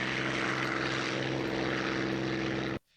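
A propeller airplane drones overhead with a steady, buzzing engine note and propeller hum, loud and continuous, before the recording cuts off abruptly.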